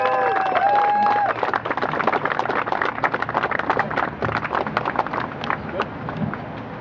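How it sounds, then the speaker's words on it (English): A crowd applauds steadily for several seconds at an End the Fed rally in New York City, 2009, dense clapping that gradually thins out, with a brief voice at the start. "So why don't you all give a big round of applause for Becky Akers."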